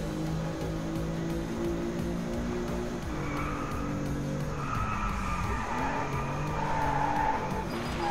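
A car engine heard from inside the cabin in the racing video game DRIVECLUB, muffled and steady, with tyres squealing and skidding under it and music faintly in the background.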